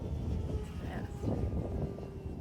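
An E-flite Electrostreak 1.1m RC airplane flies at full throttle in extreme winds, giving a steady, fairly close motor drone blended with heavy wind rumble throughout.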